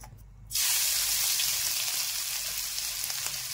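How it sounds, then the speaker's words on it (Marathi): Crushed ginger and garlic hit hot oil with a sudden, loud hiss that settles into a steady, dense sizzle, close and continuous. "सर्वात आधी आपण अद्रक आणि लसूण क्रश केलं होतं ते टाकूया."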